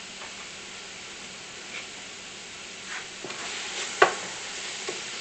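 Cooked pork meat going into a hot pot on high heat for Puerto Rican pasteles, giving a steady close sizzle and hiss with a few stirring scrapes and one sharp clink, no talking.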